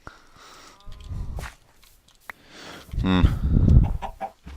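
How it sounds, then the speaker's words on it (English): Chicken clucks from Minecraft, a few short bursts with a louder cluster near the end, alongside light footstep-like taps. "Lots of chickens, lots of cows."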